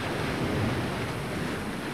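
Steady, continuous ocean surf washing onto the shore, a dense low rushing roar with some wind noise, close and fairly loud, no voices.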